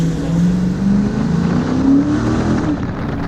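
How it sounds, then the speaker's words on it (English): Dodge Charger 392 on Michelin Pilot Sport A/S 3+ tires driving through turns, engine droning steadily with pitch rising and falling and road noise beneath, heard from inside the car. "just kind of taking around a couple turns to show you guys that the car does do a pretty good job of handling"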